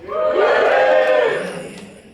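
A comedy club audience at a Brisbane festival standup show cheers loudly in a sustained, swelling burst of voices and whoops that fades over about two seconds.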